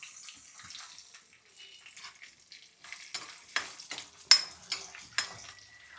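Cumin, mustard seeds and dried red chillies fry in hot oil, a soft sizzle that builds into sharp, irregular pops and crackles close by.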